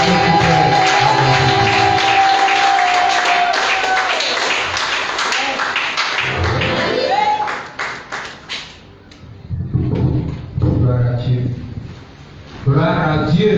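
A church congregation applauds and cheers to welcome an evangelist, clapping loudly over music for several seconds before it thins out and a voice begins speaking.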